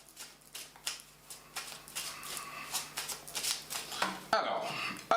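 Belline oracle cards shuffled by hand during a fortune-telling reading, a run of soft, rapid papery riffles in quick bursts, close and fairly quiet, with a short shift in the room sound near the end.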